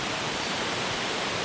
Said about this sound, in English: You swear the sound of the waterfall was coming from the big overhang here.